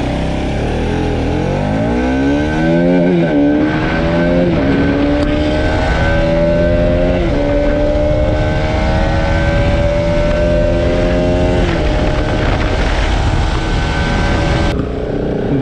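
A Bajaj Pulsar RS200 motorcycle accelerates hard along a short road, its engine note climbing through rising, stepped gear changes, loud and close throughout with steady wind rush.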